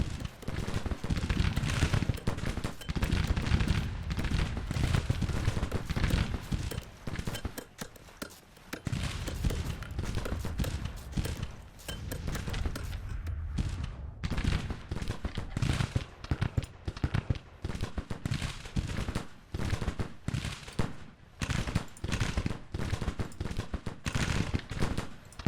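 Heavy cannon fire from warships in the naval battle game Grand Tactician, set in the Civil War: dense, rumbling volleys of booms overlapping almost continuously, with a brief lull partway through.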